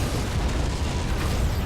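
A Borg vessel blows apart in the Star Trek Legacy space game, a loud, rumbling broadband explosion that fills the short moment without any voice.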